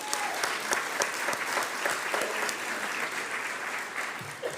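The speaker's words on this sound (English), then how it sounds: "So a round of applause for them." An audience at the 2022 Milgard Business Leadership Awards claps for past award recipients, a dense, sustained burst of applause that fills the room at a steady level before tapering off near the end.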